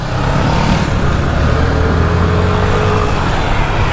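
A car drives through the streets of Naples and pulls out to overtake, giving a loud, steady roar of engine and road noise heard from inside with a slight rising tone. There is no talk.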